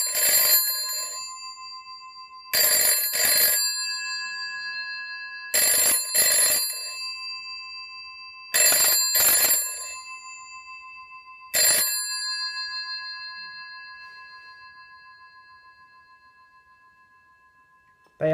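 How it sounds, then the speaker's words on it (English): Loud metallic ring-ring bursts from GPO telephone bell ringers repeat at steady intervals, each pair of clangs ringing on and decaying, with no talk over them. "They are super noisy in here with my telephone, the GPO ringers."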